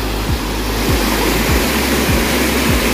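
A waterfall near a Shiv temple at Surjabasa, Chaibasa roars loudly and continuously up close, with a few dull low thumps beneath the rushing water.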